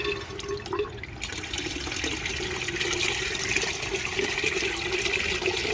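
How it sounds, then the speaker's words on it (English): Water gushing steadily out of an aquaponic flow filter with sponges after its unglued valve came apart while being turned, a continuous close splashing pour with no talk. "Let me drain this out and I'll be pretty much done."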